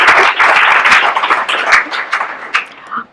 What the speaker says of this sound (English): give Betty a round of applause too.